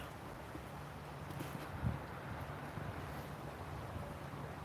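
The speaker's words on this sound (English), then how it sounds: "it's getting windy. I hope it's not too loud. I always forget that like microphones pick up wind like crazy." Wind buffeting a microphone outdoors near water, a low, steady rumbling hiss with a brief stronger gust in the middle, fairly faint.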